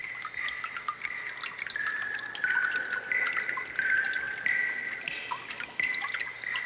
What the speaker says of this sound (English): there's water dripping off screen